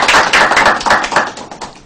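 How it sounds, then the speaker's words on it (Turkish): A burst of applause from a group, rapid overlapping hand claps rising and falling in brief waves, fairly loud and close, with no speech. "Bir alkış Fethullah Hocam."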